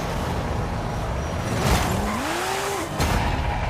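Race cars roar in Forza Horizon 5, a dense continuous engine noise with a swooping tire squeal that rises and falls midway and a sharp burst near the end, loud and with no talking.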